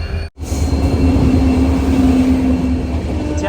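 A WDP-4D diesel locomotive rolls in at an Indian railway station to couple onto an Ernakulam–Velankanni express, its steady loud engine drone and low rumble continuous and close, with a sustained tonal hum throughout.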